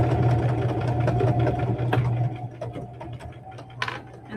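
A sewing machine stitches across a seam of a rag quilt with a steady, close motor hum and rapid needle chatter that eases slightly toward the end.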